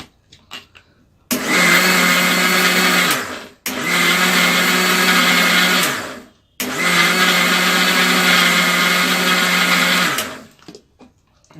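A blender whirs loudly, grinding pistachio milkshake premix powder with sugar in three bursts of a few seconds each, starting and stopping with brief pauses between.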